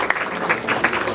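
An audience applauds at an art exhibition titled Armenian Golgotha, with a short burst of many hands clapping at a moderate level and no voices over it.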